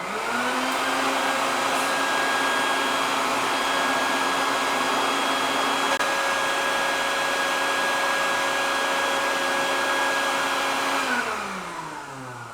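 A coffee roaster drones loudly and steadily with a whining hum as it roasts honey-process Dominican Republic beans, then winds down at the very end, with no talking.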